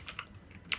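A few quick, light clicks of a computer keyboard while code is typed, with soft taps spaced irregularly and one sharper keystroke near the end, all close by in a quiet room.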